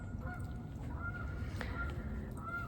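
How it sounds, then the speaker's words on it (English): Geese honk in short nasal calls at a distance, scattered over a constant low rumble of background noise. "Hear the geese's honking."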